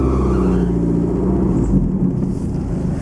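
A Lotus Excel on its first drive rumbles close by, its engine a deep, steady growl with a slight surge in revs partway through, no voices over it.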